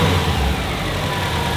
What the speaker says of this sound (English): So you can hear I'm just sitting here revving the car.